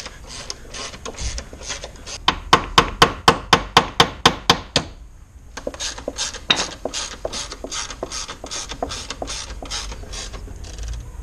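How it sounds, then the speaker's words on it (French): A Parkside ratchet wrench clicks rapidly while working on an Audi A4 1.8T, a loud close burst of about ten sharp, evenly spaced pawl clicks after a softer ratcheting stretch, then another quick run of clicks. "Magnifique cliquet Parkside."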